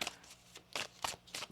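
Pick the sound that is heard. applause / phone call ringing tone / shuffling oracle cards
shuffling oracle cards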